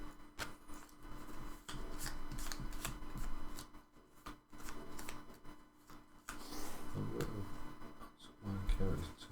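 Board game cards being shuffled at a five-player Wallenstein game table, bursts of papery riffling and rubbing that come and go, with people talking in between and over the shuffling.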